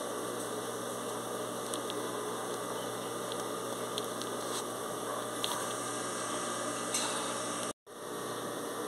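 A sewing machine, being used to make a rag-strip rug on a stretch-denim base, hums steadily at low level with a faint electrical whine, a few light ticks, and a brief dropout near the end.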